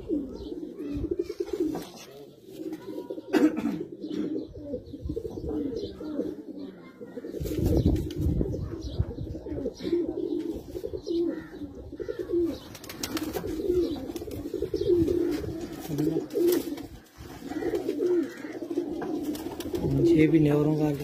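Chinese flying pigeons, tournament birds, coo in a low, continuous rumbling murmur close by, with occasional wing flaps and knocks, while someone talks over them throughout.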